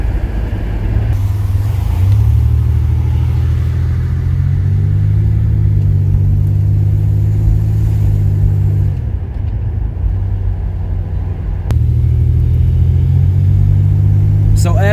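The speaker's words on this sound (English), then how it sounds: "I'll do a quick half throttle up to probably 60, 65 miles an hour. Make sure that turbo spools up." A turbocharged junkyard-rescue car pulls at half throttle toward 60 mph, its engine note climbing in steps through gear changes, loud and close from inside the cabin.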